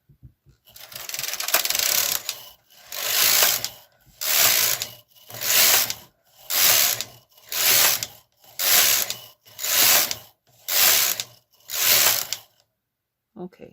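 A Brother KH230 knitting machine carriage is pushed back and forth across the bed to knit rows. Nine loud, even mechanical whooshing rattles follow one another in a steady rhythm, each lasting about a second, with brief pauses between passes.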